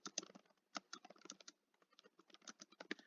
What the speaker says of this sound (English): I'm typing it because I don't have a paragraph